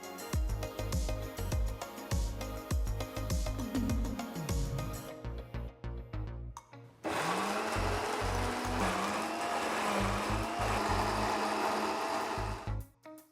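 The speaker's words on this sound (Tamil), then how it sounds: "இப்போ விதை இருக்கிற கிரேப்ஸை க்ளீன் பண்ணி ஒரு மிக்சர் ஜாரில் போட்டு ஜூஸ் பண்ணிக்கலாம்." A mixer jar blends cleaned seeded grapes into juice, a loud steady motor whir that pauses briefly midway and then restarts and runs on continuously.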